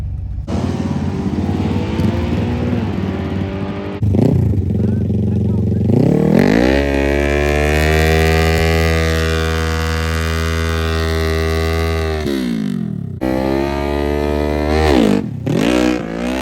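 A race truck engine climbs to high RPM and holds there in a loud, strained drone, with a longer sustained pull in the middle and shorter blips around it; people talk loosely at the start and end.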